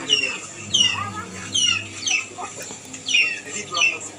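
Ducklings calling in a steady series of high, descending peeps, close and fairly loud, repeating in bursts over a low background hum.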